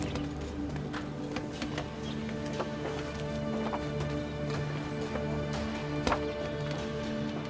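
Horse hooves clip-clop steadily across a few seconds, set against sustained background music in a martial arts film scene.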